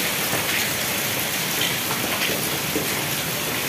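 Heavy rain pours down steadily outside a house during a storm, a dense, constant hiss of drops drumming on surfaces close by, with no voices.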